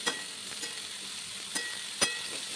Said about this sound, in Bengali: এরকম উল্টে পাল্টে ঠিক যেভাবে পটল ভাজা করি